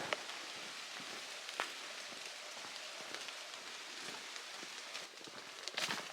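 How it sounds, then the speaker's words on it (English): Light afternoon rain on the Appalachian Trail patters steadily on surfaces, a soft continuous hiss with scattered louder drops, no voices. "Starting to get those intermittent afternoon rain showers."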